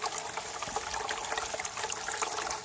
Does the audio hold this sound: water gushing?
yes